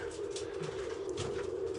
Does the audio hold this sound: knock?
no